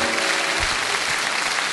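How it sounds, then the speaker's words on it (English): Theater audience at a live acoustic music show giving a big round of applause, a loud, dense and continuous roar of clapping filling the whole stretch with no talk on top. "Give them one more big round of applause."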